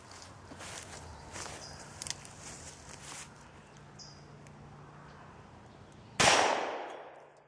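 A single loud, sharp report from a S&W Mountain Light .357 revolver loaded with hollow points, fired at a target about 7 yards away at an outdoor range, ringing out after several seconds of quiet shuffling and faint ambient noise.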